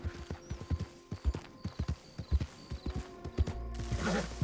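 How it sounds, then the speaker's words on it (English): Horse hooves galloping in Red Dead Redemption 2, a rapid, steady clip-clop of close, loud strikes that gives way at the end to a rushing gust of noise. "Give one of the other horses a run for a while"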